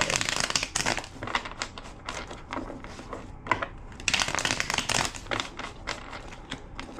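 Crisp riffling and crinkly card-flicking bursts come in quick repeated waves, close and fairly loud, with brief pauses between shuffles.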